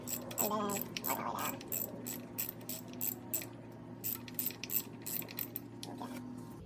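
Ratchet with a 13 mm socket loosening a bolt on a BMW E36 M3 water pump, a series of quick, faint clicking pawl ticks repeating through the stretch, with low background hum.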